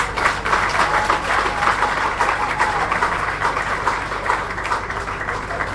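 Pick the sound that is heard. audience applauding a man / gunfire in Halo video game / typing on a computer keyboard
audience applauding a man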